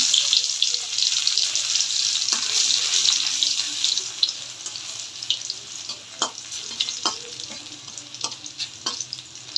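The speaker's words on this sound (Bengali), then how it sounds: "দুইটা শুকনো লঙ্কা দিয়ে দিচ্ছি শুকনো লঙ্কাটা একটু ভেজে নিব" Dried red chillies and crushed garlic fry in a hot pan, with a bright continuous sizzle and spatters under intermittent stirring clinks, loud and close.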